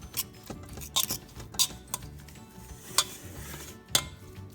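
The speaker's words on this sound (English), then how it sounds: "just take 2 butter knives, almost like you're cutting shortening. Get it broken up a little bit first." Two butter knives scrape and clink against a dish while pulling apart slow-cooked chicken, giving irregular metallic taps and scrapes at close range with no talk.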